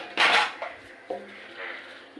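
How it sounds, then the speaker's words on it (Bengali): A lid set down on a pot of kacchi biryani, giving a sharp metallic clink followed by a couple of softer knocks and scrapes, close and fairly loud. "এবারে আমি ঢাকনা দিয়ে বসিয়ে দেবো"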